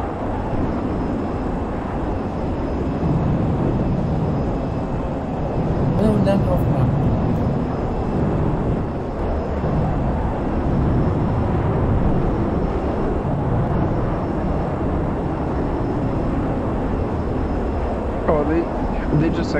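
Jet aircraft in the video game Project Reality coming in to land, a steady engine roar and rushing whine throughout, with voices talking over it.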